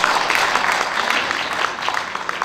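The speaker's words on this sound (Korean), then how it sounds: "큰 박수로 환영해주시기 바랍니다." Audience applause welcomes the pianist at a healing concert of Korean art songs, a steady, fairly loud patter of many clapping hands that carries evenly without pause.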